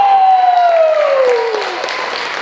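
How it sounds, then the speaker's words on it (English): A crowd applauds the monks at an awakening event, loud steady clapping with a sliding tonal whistle or voice over it at the start, gradually easing off. "And one more big round of applause for the monks."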